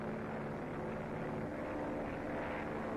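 A propeller aircraft drones steadily in a constant, moderately loud rumble with a pulsing engine throb that holds without change throughout.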